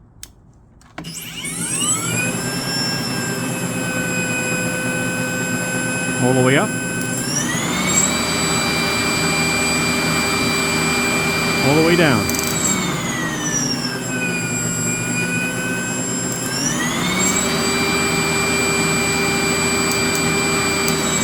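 An Ego single-stage battery snow blower runs on its lowest setting with a steady electric whine and a whirring hum whose pitch rises and falls as it speeds up and slows down. A person talks briefly over it.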